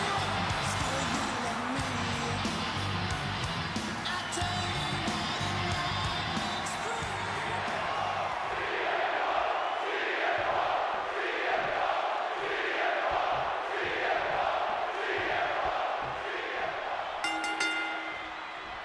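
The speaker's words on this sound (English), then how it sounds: "And a little help from the WWE Universe to cheer him on in the meantime." A virtual arena crowd in the WWE 2K26 wrestling game roars and cheers for CM Punk. The crowd noise is loud and sustained, surging in rhythmic waves, and a commentator can be heard talking over it.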